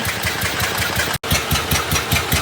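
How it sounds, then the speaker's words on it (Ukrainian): A small two-cylinder engine running on its right cylinder only, fed by a fully restored K-37 carburetor with the left spark plug removed, gives a steady, close, rhythmic low chugging with one brief dropout midway. "Повністю відновлений правий карбюратор К-37. Робота на правому циліндрі."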